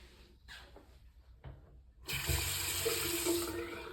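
A tap in an airport waiting-area restroom is turned on, and steady water pours into the sink, loud and close, after a few quiet handling sounds.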